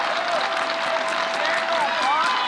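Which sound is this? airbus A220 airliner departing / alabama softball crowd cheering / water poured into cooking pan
alabama softball crowd cheering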